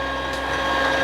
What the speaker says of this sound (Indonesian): Kita mixer lagi supaya nanti betul-betul tercampur rata semuanya ya.